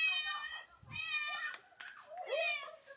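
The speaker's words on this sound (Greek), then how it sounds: "Άλλη γάτα είναι αυτή." A cat meows several times in a row, close and clear, the cries rising and falling in pitch with short pauses between them.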